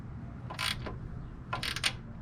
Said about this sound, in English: We're going to tighten those down first, just in case this panel wants to move or get sucked in.